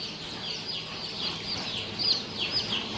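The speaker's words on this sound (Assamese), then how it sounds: "এইবিলাক হ'ল আৰআইআৰ লেয়াৰ কুকুৰাৰ পোৱালি আজি হেচিং হৈ আছে" Newly hatched RIR layer chicks in a hatchery with an automatic incubator peep continuously, a dense chorus of high, thin chirps close by.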